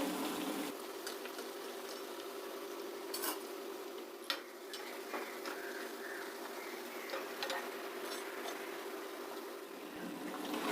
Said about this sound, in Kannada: ಇದು ಸಿಮ್ಮಲ್ಲಿ ಇಟ್ಕೊಂಡು ಕರಿತಾ ಇರೋದ್ರಿಂದ ಸ್ವಲ್ಪ ನಿಧಾನ ಆಗುತ್ತೆ ನಿಧಾನಕ್ಕೆ ಬೇಯುತ್ತೆ